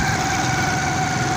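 A motorbike engine runs on a city street at night, a steady, droning hum with a whining tonal edge, close and unbroken throughout, with no speech.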